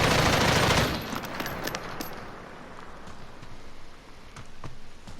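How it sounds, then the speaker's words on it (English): Bursts of automatic gunfire from the M321 FPW fired from the hip in Modern Warfare, with a dense opening volley followed by scattered shots and echoing tails, loud and close, with no talk. "This is gonna be hip fire with the no compensating for recoil"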